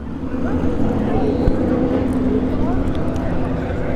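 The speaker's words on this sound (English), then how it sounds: "We got a plane coming in." Propeller airplane droning overhead on approach near a dragstrip, a steady low hum beneath continuous nearby talking.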